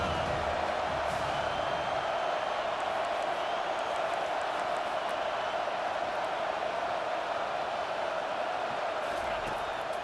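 Stadium crowd noise in the College Football 25 video game on a big third down, a steady, dense roar of cheering fans held at an even level throughout.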